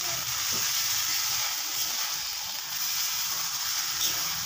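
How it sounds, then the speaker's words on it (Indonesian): Shrimp for balado with stink beans is stirred into a hot pan, giving a dense, continuous hiss of frying with soft scraping of the stirring, close and steady throughout. "masukkan udangnya ya. Dan kita aduk rata ya"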